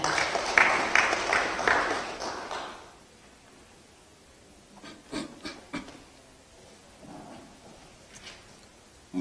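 An audience at the seventh public procurement forum of 2019, in the Mwalimu Nyerere hall in Dar es Salaam, claps in a dense burst of applause for about three seconds, then the room falls to scattered faint knocks and rustles.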